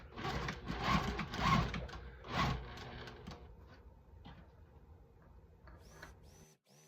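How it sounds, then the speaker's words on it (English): A sewing machine stitches a fabric gift bag in short whirring bursts, loud at first then quieter intermittent runs, ending in faint clicks and near silence. "I'm going to flip it and sew again 1/4 inch"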